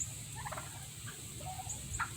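Meat-breed turkeys on a farm give faint, distant gobbles in a few short bursts over a steady low background hum.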